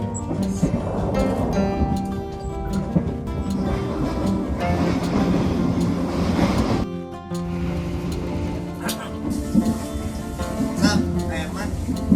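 A steady rumbling, rattling ride inside a moving train, continuous and fairly loud, with a brief dip midway before the rolling noise resumes.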